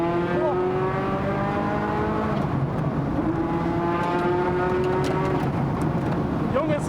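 Ferrari F40 twin-turbo engine accelerating hard down the straight at the Nürburgring during a trackday, a loud continuous rising roar with climbing pitch and turbo whine, heard from close by with brief speech over it.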